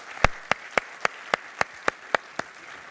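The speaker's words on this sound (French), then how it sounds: "Et on les applaudit, effectivement." Audience applause at a French conference round table greets panel speakers as crisp, evenly spaced single claps, about ten in a steady rhythm, close and distinct over a quiet room.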